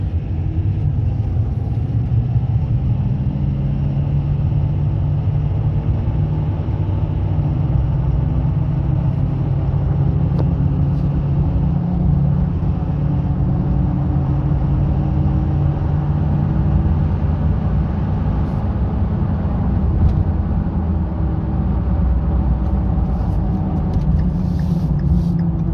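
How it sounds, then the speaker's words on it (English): A 2011 Ford F250 pickup truck, deleted with no DEF system, accelerating steadily on a highway, giving a continuous low engine rumble and road noise heard from inside the cab with no talk. "We'll get back on the highway and I'll get a smoother acceleration this time."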